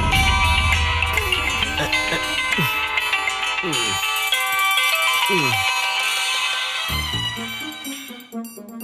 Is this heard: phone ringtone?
yes